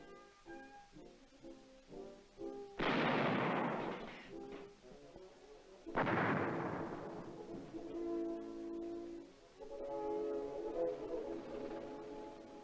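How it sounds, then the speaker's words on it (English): Live artillery fires during army gunnery training, two heavy, booming blasts a few seconds apart, each decaying slowly, heard over background music. "It isn't long before trainees graduate from miniature to real firing."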